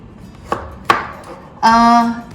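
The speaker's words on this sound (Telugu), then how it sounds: "దీన్ని చిన్న ముక్కలు చేసేసుకుందాం గ్రైండింగ్కి కంఫర్టబుల్గా ఉంటుంది" Ash gourd being chopped into small pieces on a board: two sharp separate knife strikes ring out close and clear, then a longer, steadier cutting sound runs for about half a second.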